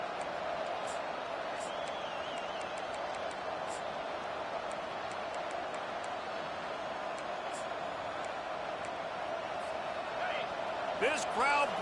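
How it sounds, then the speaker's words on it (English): Football stadium crowd, a steady broad roar of many voices filling the background throughout, with a commentator talking over it and a brief louder burst near the end. "This crowd bringing the energy and noise early."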